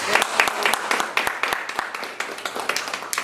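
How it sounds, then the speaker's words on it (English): Audience applause following a live jazz set at a lunchtime music event, a cluster of sharp individual claps with distinct hand strikes, moderately close, fading unevenly as the clapping thins out. "Let's give him another round of applause, y'all."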